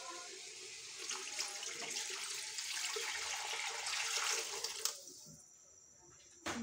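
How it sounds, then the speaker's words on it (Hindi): Water pours steadily from a tap into a cooking pot of potatoes for several seconds, then stops, leaving a quieter hum and a couple of small knocks. "अब इसमें हम डालेंगे पानी।"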